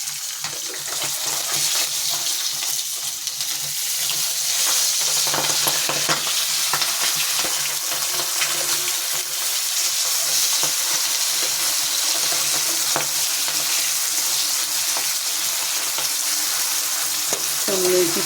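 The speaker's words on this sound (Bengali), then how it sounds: "এবার আমি গ্যাসটা একটু বাড়িয়ে দেবো, মাছটা ভাজা হোক।" Fish frying in a pan over a gas flame turned up, producing a loud, steady sizzle and bubbling hiss close by, with faint stirring clinks and no speech.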